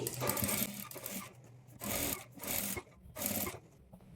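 A sewing machine top-stitching thread piping along a sleeve edge, running in three or four short rhythmic bursts separated by brief pauses, close and fairly quiet, with no voice over it.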